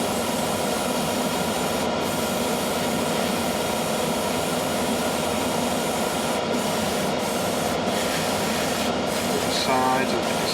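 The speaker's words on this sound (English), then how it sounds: "I'm also going to spray the back very quickly" A continuous hissing of spray paint on a 1/32 scale model aircraft runs steadily throughout, loud and close, with a few short breaks and a faint voice near the end.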